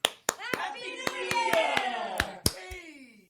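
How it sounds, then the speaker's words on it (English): A small group claps in a few sharp, scattered bursts during an online puzzle-hunt gathering, while a cheering voice rises between the claps. "Let's give a huge round of applause"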